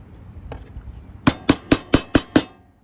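A hammer strikes a chisel cutting a wooden channel for an oriental meditation chair, six sharp evenly spaced knocks ringing close by after a few quieter taps.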